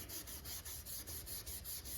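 Paste wax is rubbed by hand onto a cast iron tool surface in a woodworking shop, a faint, steady back-and-forth rasping of about eight even strokes, close and with no voices.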